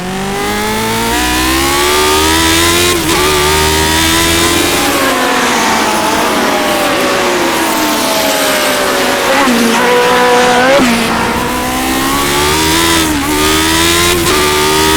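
A Lotus 79 race car in the iRacing game screams at high revs as it slides wide through a corner, its loud engine note rising and dipping steadily throughout, with brief tire squeal.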